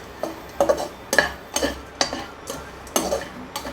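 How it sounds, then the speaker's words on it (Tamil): Stirring coconut rice sevai in a pan on low heat: a spoon scrapes and taps the metal pan in a steady rhythm of about seven or eight strokes, close and clear with no talking. "இதை நான் ஸ்டர் பண்ணிட்டேன் போகிறோம்."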